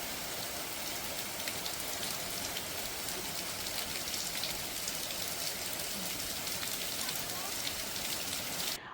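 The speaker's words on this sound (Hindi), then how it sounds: "बाहर बारिश भी हो रही है" Steady rain falls outside, heard as an even, unbroken hiss of drops on surfaces, fairly soft and constant throughout, with a faint voice now and then beneath it.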